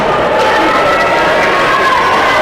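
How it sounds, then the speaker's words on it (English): Fans packed into a high school boys' basketball tournament gym roar in a loud, sustained cheer as a player enters, a constant wall of crowd noise with voices mixed throughout. "all the fans cheering when Joe Southwick entered the room"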